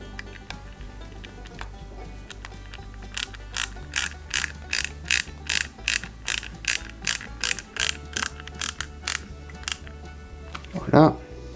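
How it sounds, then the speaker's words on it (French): A screwdriver drives KP screws into an Eaglemoss Ghostbusters Ecto-1 model kit, giving a steady series of about twenty close, crisp ratcheting clicks over a low background hum. "Et ensuite, on vient fixer l'ensemble avec des vis KP."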